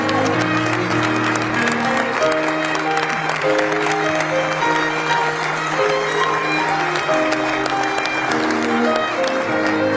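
A large audience rises and applauds to welcome Brazil's president Lula and his wife Janja at a formal state event, sustained dense clapping throughout, steady and full, with a tonal background underneath.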